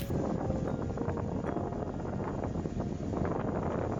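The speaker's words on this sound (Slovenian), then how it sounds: "Kakšni vetrovi." Strong wind gusting across an outdoor microphone in the wilderness, a continuous low rumbling buffet with flutter throughout, no talk over it.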